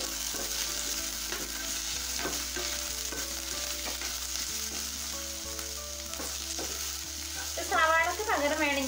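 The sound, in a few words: stir-frying ivy gourd mixed with chili and coriander powder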